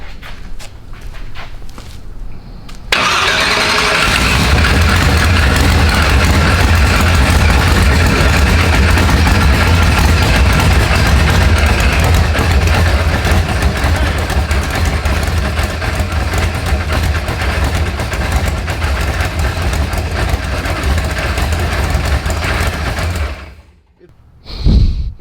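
A supercharged burnout truck engine fires up abruptly and runs loud and steady for about twenty seconds, with a dense, rumbling roar, before cutting out near the end.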